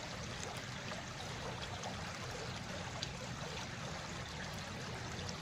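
A shallow stream runs and gurgles in a constant, even wash of water noise, close by and uninterrupted, with faint small splashes and no talking.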